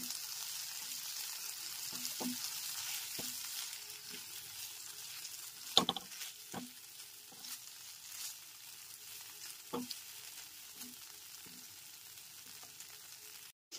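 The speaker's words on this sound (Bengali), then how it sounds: "গ্যাসের ফ্লেমটা লো টু মিডিয়ামে রেখে আদা বাটাটা টমেটো আর আলুর সাথে খুব ভালো করে কষিয়ে নিতে হবে" Ginger paste fries with tomato and potato over a low to medium gas flame, a soft continuous sizzle with scattered stirring taps and one sharper clank midway, close and unhurried.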